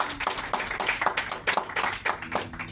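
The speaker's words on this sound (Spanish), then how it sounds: "Dale un aplauso al Señor por su palabra." Quiet, rhythmic hand clapping from a small church congregation, a few pairs of hands striking in an uneven beat, heard close but soft.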